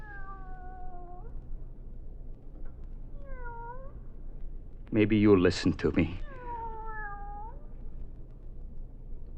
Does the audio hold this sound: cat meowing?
yes